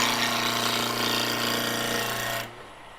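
Close, loud rough chattering of a wood lathe cutting scrap wood, holding steady for over two seconds before cutting off, leaving the lower motor hum.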